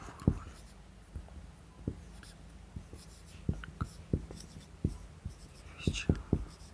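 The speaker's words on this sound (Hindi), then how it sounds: "लिखते हैं" A pen scratching out numbers on paper during a maths lesson, with short, crisp strokes and taps in an uneven rhythm, close and fairly quiet.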